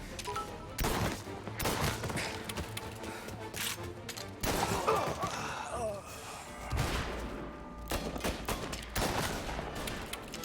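Gunfire in Mafia: Definitive Edition crackles in repeated close bursts and scattered single shots, loud and layered with game ambience, while someone talks over it.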